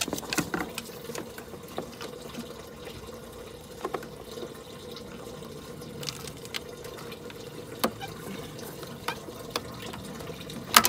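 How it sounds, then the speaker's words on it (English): Engine coolant from a 7.3 Powerstroke radiator hose draining into a bucket, a steady trickling pour with occasional drips and splashes, close and fairly quiet. "So the coolant seems to just keep on coming and coming and coming."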